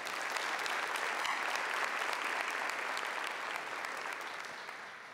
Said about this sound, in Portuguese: Dá uma salva de palmas a essa palavra.